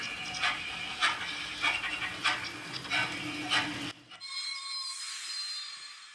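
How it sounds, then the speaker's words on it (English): A motorized LEGO City Christmas train runs along its track with a rhythmic clatter and repeated clicks for about four seconds, then cuts to a quieter high whine. "So we have a motorized train."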